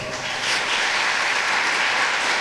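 A chapel conference congregation applauds in a broad, steady roar of clapping that fills the hall without pause.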